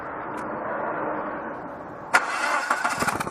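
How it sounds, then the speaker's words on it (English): A car engine with a cylinder 2 misfire cranks for a couple of seconds, then fires up abruptly into rough, uneven bursts as it catches, heard close and alone. "So go ahead and crank the engine and"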